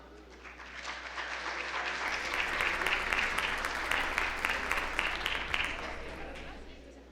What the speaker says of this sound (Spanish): Tenemos el gusto de recibirlo con un fuerte aplauso.